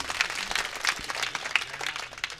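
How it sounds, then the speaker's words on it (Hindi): An audience at a poetry recital in Ganeshpura, Mandalgarh, claps steadily, a dense continuous burst of applause with no voices. "एक बार आप लोग जोरदार तालियाँ बजा करके नारायण जी कविता तालियाँ बजा के बताओ"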